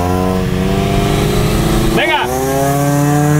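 At a drag race launch, a modified Mitsubishi Lancer with an intake and about 200 horsepower revs hard as it pulls away. The engine roars loudly with a rising pitch, and someone shouts briefly over it.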